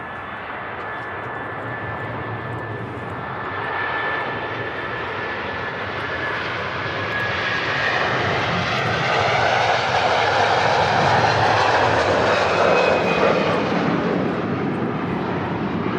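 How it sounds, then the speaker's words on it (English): A Saudi Arabian Airlines Airbus A330 departing Manchester Airport, its engines spooling up into a loud, broad jet roar that builds steadily and holds for a long stretch, with a faint high whine riding on top. "Next A330 departure."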